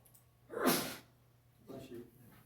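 A single sharp sneeze bursts out at a citizens' comment session in a government meeting, followed by a softer breathy sniff or second exhale, heard alone at moderate loudness in a quiet room.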